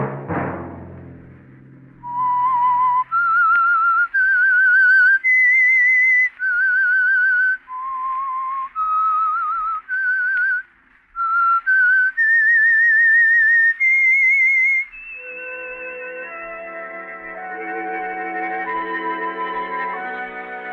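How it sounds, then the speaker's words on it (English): A lone whistler carries the theme signal of The Whistler radio mystery program, a rising and falling melody of clear sustained notes with slight echo, followed by a soft orchestral passage. "Let that whistle be your signal for the Signal Oil program, The Whistler"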